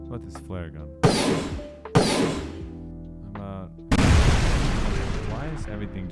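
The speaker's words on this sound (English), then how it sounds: "Why is everything just a fucking explosion, dude?" Game-asset explosion sound effects for a flare gun, several loud booming blasts in succession with decaying rumble, interleaved with someone talking.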